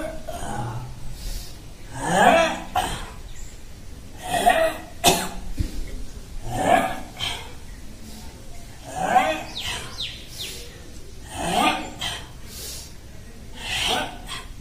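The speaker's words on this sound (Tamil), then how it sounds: "அப்படி ஒரு இருமல் தரேன்." Several sharp, forceful coughs during a breathing exercise, spaced a couple of seconds apart, each a short breathy burst, with no talking around them.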